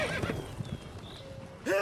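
Roach, a horse in The Witcher 3, neighs and whinnies at the start and end with galloping hoofbeats pounding between, close and moderately loud game audio with a faint voice underneath.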